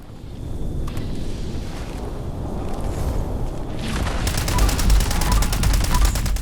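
Rapid gunfire in the video game Fallout 76, dense repeated shots building into a loud sustained fusillade with heavy booms, getting denser and louder in the last couple of seconds.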